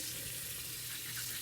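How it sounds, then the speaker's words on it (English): Running tap water pours steadily in a kitchen while hands are washed during turkey preparation, a continuous close hiss with no talk. "Let me wash my hands, you guys."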